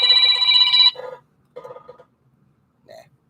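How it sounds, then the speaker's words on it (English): A phone ringing nearby, a loud electronic ringtone burst followed by shorter, quieter ring bursts with gaps of silence between them. "That's my phone ringing."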